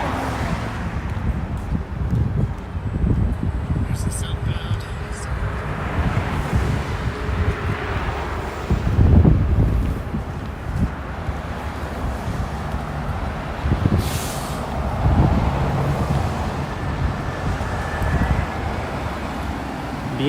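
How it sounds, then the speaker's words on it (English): Outdoor wind buffets a microphone on a chilly West End street in Toronto, making a constant rough rumble with gusts that swell and fade, while traffic noise sits faintly underneath. "The wind seems a little calmer now."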